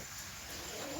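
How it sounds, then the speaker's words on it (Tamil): A single Roman pigeon coos softly in the background, a faint low murmur over steady ambient hiss with no talking. "ஒரு புறா தான் இருக்குதுங்க ஃப்ரெண்ட்ஸ்."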